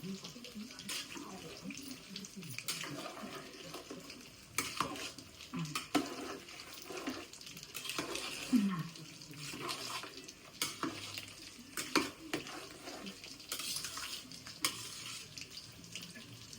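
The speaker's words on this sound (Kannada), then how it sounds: "ಈಗ ಕುದುಕ್ತಾ ಇದೆ, ಒಂದ್ಸತಿ ಮಿಕ್ಸ್ ಮಾಡ್ಬಿಡ್ತೀನಿ." A pot of chicken dum biryani bubbles on the stove and gets stirred, with soft, irregular scraping and wet churning sounds close by, plus clatters now and then and a low boiling hiss underneath.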